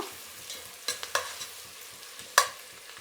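Jackfruit biryani mixture stirred in a pot, with a low steady sizzle beneath a few sharp spoon clinks and scrapes, the loudest knock landing near the end.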